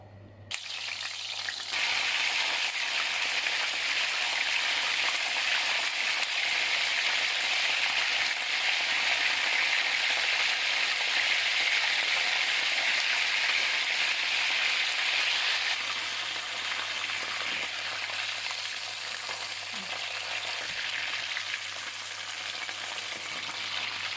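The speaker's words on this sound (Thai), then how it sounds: "เอาปลาดุกไปทอด" Catfish frying in a hot pan for a Thai home-cooked dish, with a steady, dense sizzle and crackle of oil that holds loud and even throughout, easing slightly toward the end.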